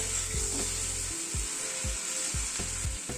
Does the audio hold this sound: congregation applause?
no